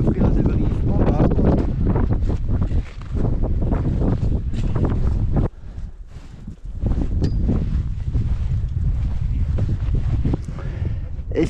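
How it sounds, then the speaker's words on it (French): Strong wind batters the microphone on a mountain summit, a loud, gusting roar that surges and briefly drops before building again throughout. "Il y a un vent énorme."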